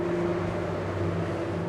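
An Invictus GT 320S motor boat engine holds a steady, deep droning roar with a strong humming tone, loud and close throughout the short burst, with no voices.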